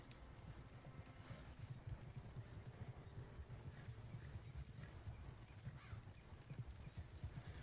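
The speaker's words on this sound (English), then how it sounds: "Now you set it, and then you just keep the horse on a path" Horse hooves clip-clop steadily along a path in Red Dead Redemption 2, a continuous rhythmic trot at moderate distance with no talk over it.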